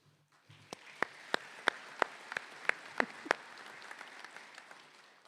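Sparse, quiet applause at a university business school commencement ceremony: roughly nine distinct claps in a slow, spaced rhythm, trailing off into a faint, soft patter of clapping.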